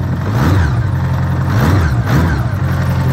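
A restored 1980 Honda Goldwing GL1100 motorcycle engine idles with the choke fully on, a steady, close, loud low rumble with a slightly wavering pulse and no voices.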